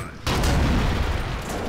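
Minigun fire in the top-down shooter Alien Swarm erupts abruptly as a dense, continuous roar of rapid shots that holds loud and steady to the end.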